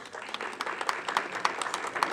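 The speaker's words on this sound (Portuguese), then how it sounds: "Com os aplausos de vocês" Light, scattered clapping from a modest audience after a lecture by a Fundação Dom Cabral professor, with individual claps standing out in an uneven rhythm.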